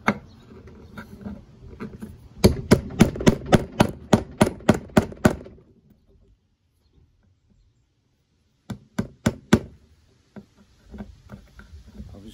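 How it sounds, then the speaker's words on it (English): Sharp knocks on a nail in a pinball cabinet during restoration: a fast run of about a dozen close, loud taps, a pause, then four more quick strikes and a few scattered lighter knocks. "I just want to knock the nail around a bit."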